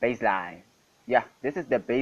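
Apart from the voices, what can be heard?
No everyday noise stands out behind the speech.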